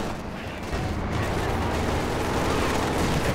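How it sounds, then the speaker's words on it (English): A mortar in a World War II strategy video game fires amid a dense, continuous roar of battle noise, with a heavy thump near the start and sustained rumbling explosions throughout. "and now I get the mortar."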